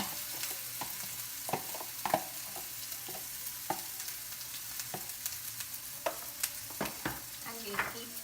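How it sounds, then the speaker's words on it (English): Ground dal stirred and fried in oil in a pan: a soft, steady sizzle broken by repeated sharp scrapes and taps of the spoon, close and fairly quiet. "And we'll keep mixing it and incorporate the oil into the dal."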